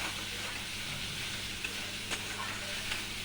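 Tomato paste with ground cashew, melon seed and poppy seed spice paste, salt and turmeric sizzling and frying in a pan for stuffed eggplant, a steady close crackle with faint stirring clicks throughout.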